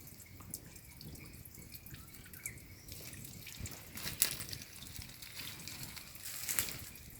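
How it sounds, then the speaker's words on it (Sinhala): Water falls in a thin stream inside a rock, a faint continuous trickle with scattered soft drips and splashes in a quiet, enclosed outdoor setting, with no talking. "වතුර පාරක් වැටෙන සද්දයක් යාළුවනේ ඇහෙන්නේ."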